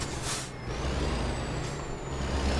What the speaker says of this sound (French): Hop, on freine tranquillement.